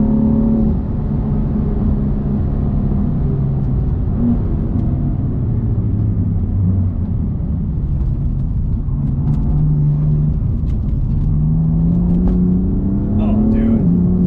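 A BMW M4 on 315 Nanking AR1 tires accelerates on the road, a steady loud engine and road rumble with rising and falling harmonics running throughout.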